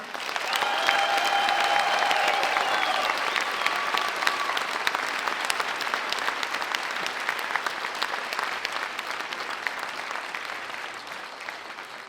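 Concert audience applauding a vocal group director at a dance club's tenth-anniversary show in Veliko Tarnovo, a dense, steady wash of many hands clapping that holds strong for about twelve seconds before easing slightly, with faint sustained tones early on.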